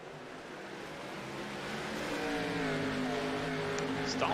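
Stock car engine on an ARCA series oval at Richmond accelerating hard on a race restart, a faint distant drone rising steadily in pitch and loudness.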